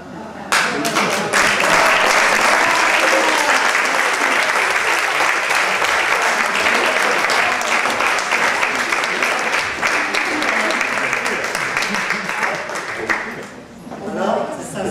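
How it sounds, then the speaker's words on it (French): Sustained, loud audience applause fills a café talk event, a dense wash of many hands clapping that holds steady for about thirteen seconds before tapering off. "c'est sincère, les applaudissements"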